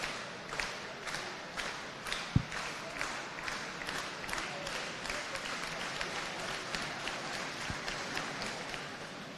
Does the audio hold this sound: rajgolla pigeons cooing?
no